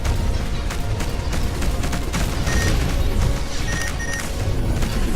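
Spaceship cannons fire in a spaceship simulation management video game, a dense continuous barrage of booming shots and crashes that fills the whole stretch with no talk over it.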